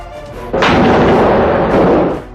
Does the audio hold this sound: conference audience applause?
no